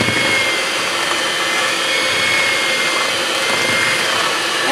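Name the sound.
electric mixer on low speed creaming butter for pound cake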